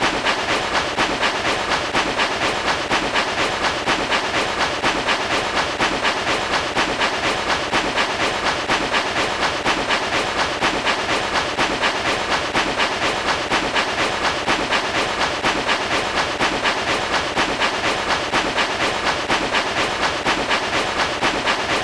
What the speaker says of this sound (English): Spirit Train turns down the new path, taking a different direction through the blizzard